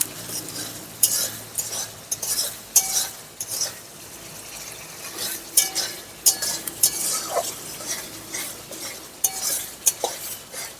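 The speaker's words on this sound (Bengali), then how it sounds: "কাজু বাটাটা দিয়ে খুব ভালো করে একটু নাড়াচাড়া দিয়ে নেব।" A spoon scrapes and clinks against a pan while cashew paste is stirred into cabbage cooking with spices, rhythmic stirring bursts over a soft sizzle, close and alone with no talk.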